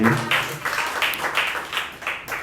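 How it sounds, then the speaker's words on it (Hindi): An audience at a poetry event claps for two anchors, a brief burst of many hands in uneven, rippling waves that rise and fade over a couple of seconds. "एक बार ज़ोरदार तालियां इन लोगों के लिए हो"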